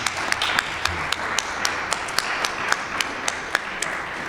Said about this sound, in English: Suzanne, Eric, Don, a round of applause for these guys.